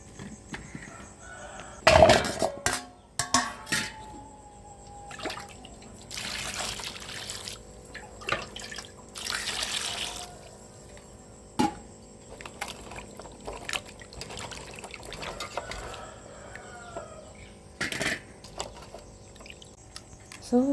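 Freshly dug taro corms from a home garden are rinsed and rubbed in water, giving intermittent splashes, trickles and drips in short bursts separated by quiet gaps, close and moderately loud, with no talking.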